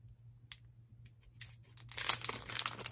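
A Pokémon card pack wrapper is torn open by hand, starting with a few faint crinkles and building into a louder crackling rip of foil plastic at close range over a low background hum.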